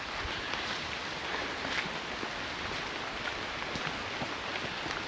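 Steady, dense rain falls on a wild camping spot, a continuous broadband hiss with no breaks, close and even throughout.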